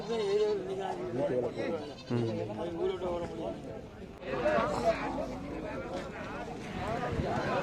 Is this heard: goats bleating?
yes